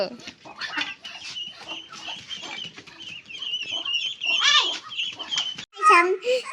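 Chickens cluck in short bursts close by, mixed with a voice and other chatter, ending with a louder squawk.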